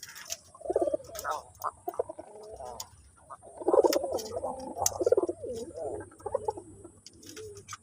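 Pigeons for sale coo in low, rolling bursts, several birds close together, with fluttering and soft scuffling around them and a steady high hum in the background.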